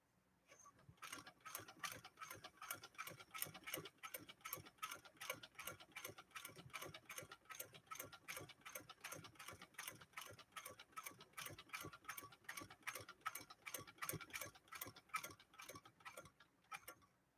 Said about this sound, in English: we'll give this a crank off and see how this 99K does on this sew off